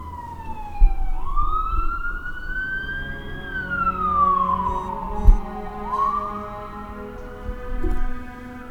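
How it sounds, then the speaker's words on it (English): An ambulance siren wails outside, its pitch sweeping up and down in long slow glides as it passes by, steady and fairly loud against a low rumble of traffic, with no voices. "There's an ambulance going by outside"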